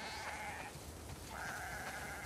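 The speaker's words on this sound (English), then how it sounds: "We definitely have way too many sheep." Two drawn-out sheep bleats in the video game The Last of Us Part II follow one another, clear and fairly close, with quiet ambient noise between them and no talking.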